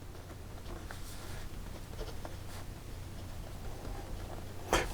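A medium steel nib on an Amazon Basics fountain pen scratches faintly across paper in short, intermittent strokes. The sound is quiet and close, with no talking, and ends in a slightly louder tap.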